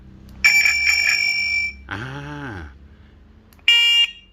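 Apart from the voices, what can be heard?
electronic bicycle horn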